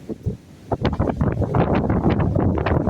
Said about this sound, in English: you see the wind's blowing that way for those trees